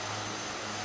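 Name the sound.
Aerosoft Twin Otter plane exterior engine sound, flight sim video game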